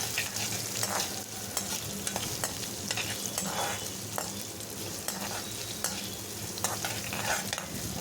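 Onion sautéing in a pan with dried red chili and curry leaves, a continuous soft sizzle broken by frequent scraping stirs of a spoon, close and fairly quiet.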